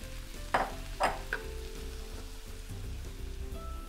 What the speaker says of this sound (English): And then we will just go ahead and add all the tomatoes right into that.